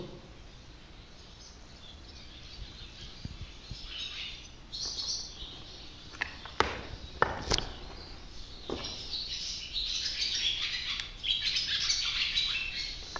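A chorus of many birds chirping and squawking outdoors in an abandoned village, with calls overlapping steadily and growing busier toward the end.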